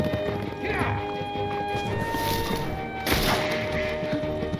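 Horse hooves clip-clop beneath overlapping speech in a film scene, followed by a sharp crash as a rider falls from the horse, with mixed movement and thuds around it.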